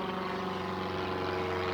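An aircraft's engine drones steadily overhead throughout, loud and unbroken, heard from a seaside town while cycling.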